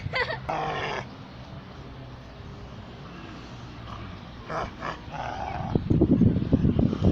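A dog growls low and rumbling, building louder toward the end with rough, throaty bursts close by.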